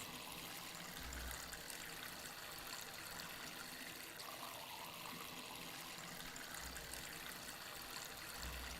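Steady stream of water from watering plants in the video game Weed Farmer Simulator, a continuous broadband rush and trickle at even loudness with no talk.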